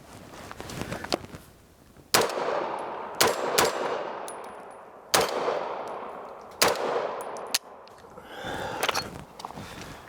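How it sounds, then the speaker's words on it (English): A Sig Sauer MPX Copperhead fires on a range. Six sharp, irregularly spaced shots crack out, each ringing briefly over a low outdoor background, with no talking. "Now that we have our first 150 rounds through our Sig Copperhead"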